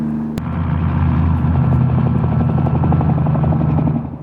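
A helicopter's rotor thumps in a fast, steady rhythm close by, loud and continuous, with a sharp knock near the start.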